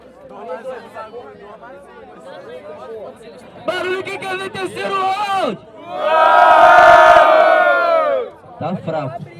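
A crowd at a Brazilian freestyle rap battle in São Gonçalo, a semifinal at the 2017 Batalha do Tanque, shouts and cheers in loud surges, with a host calling out to them and the noise swelling to a roaring peak.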